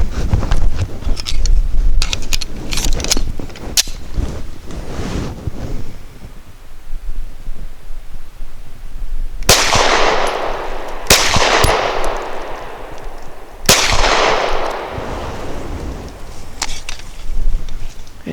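A Walther Q5 Match steel-frame pistol fires Winchester Super Clean 90 grain rounds outdoors, sharp close shots in a quick cluster early on, then several spaced single reports over wind noise.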